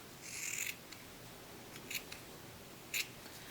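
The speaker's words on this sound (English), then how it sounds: "So you can take your scissors and just trim some of these longer threads." Scissors snip through the longer yarn threads of a pom-pom in three short, crisp cuts, close and quiet, with no talking.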